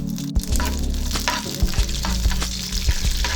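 Tempering spices, dried red chillies and curry leaves crackle and sizzle in hot oil in a pan on the stove, a loud, steady frying hiss with sharp pops and stirring scrapes throughout.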